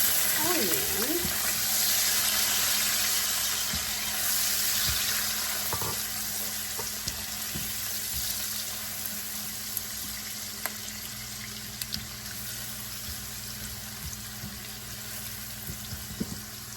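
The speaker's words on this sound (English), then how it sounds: "we're going to saute the onions so that they can turn a little bit softer." Onions sauté in a pan alongside pork chops, giving a steady broad sizzle with faint clinks and scrapes from stirring, close and moderately loud throughout.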